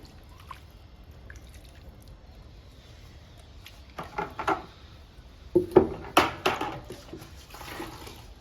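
Liquid plant feed is poured onto an indoor potted plant, a few soft trickles and splashes into the soil after a quiet stretch, faint and close.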